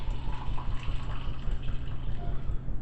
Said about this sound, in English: we're just going to go ahead and pour a cup in here